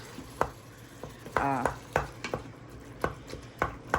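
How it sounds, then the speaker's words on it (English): Spaghetti sauce stirred in a hot Instant Pot used like a stovetop pan, a utensil scraping and knocking against the metal inner pot in irregular taps, with a brief clatter midway, close and fairly quiet. "Now let's give it a good stir."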